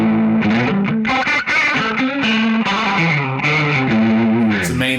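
Electric guitar run through a rotary speaker effect on a Line 6 HX Effects unit, playing a sustained melodic line with a swirling, warbling tone, loud and continuous for several seconds with no talking.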